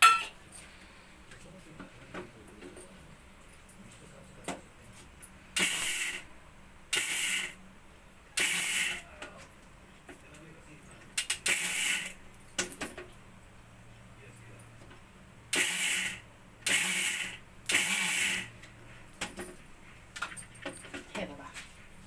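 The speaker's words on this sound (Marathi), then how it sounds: "मिक्सर अगदी चालू करायचं बंद करायचं, चालू करायचं बंद करायचं" A kitchen mixer grinder pulsing roasted mustard seeds for mango pickle runs in about eight short on-off bursts, each loud whirring pulse lasting roughly a second, with quiet gaps between.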